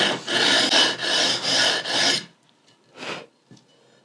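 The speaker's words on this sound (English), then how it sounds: "I want to keep sanding up until I get to the binding itself" Sandpaper rasps against a wooden guitar body being sanded up to the binding, five loud rhythmic back-and-forth strokes close by, followed by a pause and one fainter stroke.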